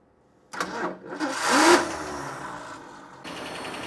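A car engine fitted with a carburetor cranks and catches after a brief quiet start, with a rising burst of noise, then settles into a steady idle.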